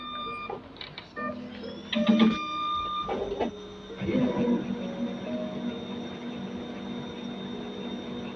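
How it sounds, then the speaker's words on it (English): A network printer runs with a steady mechanical whir and hum, marked by a few louder clunks and feed surges early on, then a continuous motor drone to the end; faint room sounds sit underneath. "So we'll start the printer."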